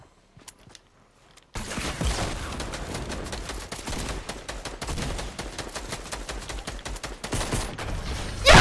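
Rapid bursts of gunfire in a Fortnite match, with shotgun blasts among dense, continuous shooting that follows a brief quiet opening; loud and busy throughout with a sharp burst at the very end.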